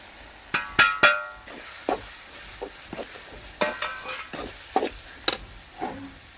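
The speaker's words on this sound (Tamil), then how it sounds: "இப்போ இந்த இஞ்சி பேஸ்ட் பூண்டு போட்டதுக்கப்புறம் சிக்கன் மசாலா, மட்டன் மசாலா, கரம் மசாலா, பெருங்காயத்தூள், அப்புறம் மல்லித்தூள் எல்லாம் போட்டு இப்போ வதக்க போகிறாங்க" Spoon scraping and stirring in a pan as ginger garlic paste is sautéed with chicken masala, mutton masala, garam masala, asafoetida and coriander powder, sparse close clinks and scrapes over a faint sizzle.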